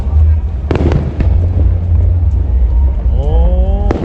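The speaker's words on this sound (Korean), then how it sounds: "저기 막 불꽃놀이 막 하는 느낌인데" Sharp firework bangs pop at intervals over a low rumble, with a rising whistle-like tone near the end and people chatting nearby.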